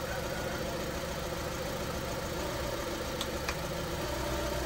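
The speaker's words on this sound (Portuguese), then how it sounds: "Vocês viram que o carro deu uma estabilizada em lenta?" A Honda Civic 1.7 engine idles steadily after its ignition coil is reconnected, a constant close rumbling hum with a faint click or two near the end and no talking.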